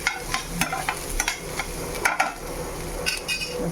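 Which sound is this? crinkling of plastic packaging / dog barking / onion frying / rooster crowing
onion frying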